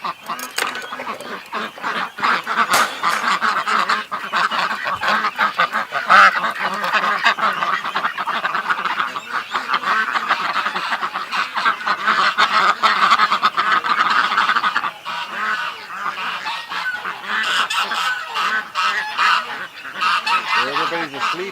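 A flock of domestic ducks calls loudly and continuously at close range in the early morning, a dense, overlapping chorus of honking quacks with no pauses, heard on its own.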